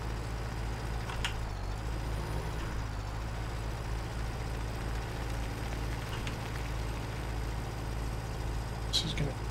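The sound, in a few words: truck driving in the video game Farming Simulator 17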